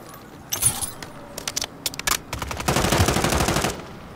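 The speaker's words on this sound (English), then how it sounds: "Shooting the crap out of him." Gunfire in Call of Duty Modern Warfare 3 multiplayer: scattered single shots and short bursts, then a sustained rapid burst of automatic fire, sharp and fairly close.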